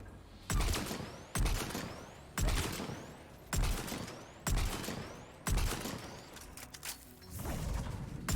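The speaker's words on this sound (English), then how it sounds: "Sniper rifle." Sniper rifle gunfire in a video game: six loud, sharp shots spaced about a second apart, each ringing off with a metallic bolt-cycling tail, then a final heavier blast, with no talk over them.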